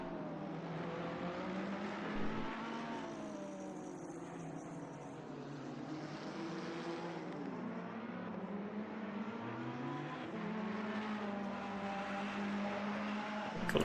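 Engines of GT race cars, including a Porsche, drone around Silverstone in Assetto Corsa Competizione, several overlapping tones rising and falling in pitch as they pass, steady and moderately loud without speech.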